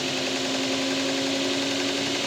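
A prototype belt sander driven by a lathe runs at speed, giving off a steady, even mechanical hum with a constant whirring tone and no breaks.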